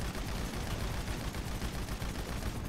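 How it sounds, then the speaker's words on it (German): Dense, continuous gunfire from GTA V Online, a rapid unbroken burst of shots filling the whole stretch at steady loudness, with no talk over it. "Ich bleib noch kurz drin und schieße."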